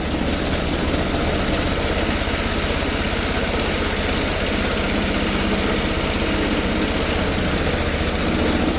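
A small gasoline engine with a sticky choke runs steadily indoors, a loud continuous rattling drone with no pauses or stalls.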